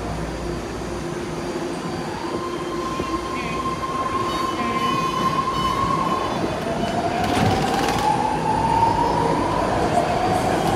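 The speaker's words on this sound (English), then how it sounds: "I want to see how the doors close. Are closing." A BART Blue Line train at Oakland Coliseum station, with a loud rumbling hum, a rising electric whine and clatter as the train starts moving after its doors close.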